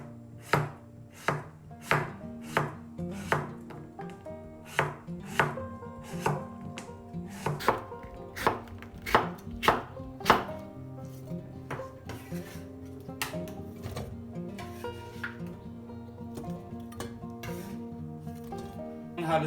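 An old cucumber, seeded but unpeeled, is cut into chunks on a board. Crisp, loud knife thuds come at an even pace, then turn softer and sparser, with faint tonal background sound throughout.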